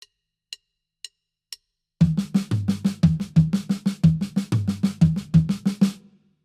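Drum kit playing a triplet melody with accents moved around the toms and snare in a jazz fill style, preceded by four soft count-in clicks, then a loud, close, steady run of hits.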